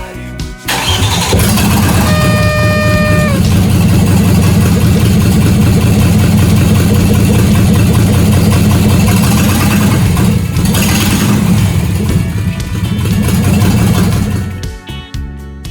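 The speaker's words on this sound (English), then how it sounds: "My main thing was here just to get this motor to fire up" A VW T3 Syncro Vanagon 4x4 custom build engine cranks briefly, fires up and settles into a loud, close, steady idle with a rough mechanical chatter before shutting off at the end.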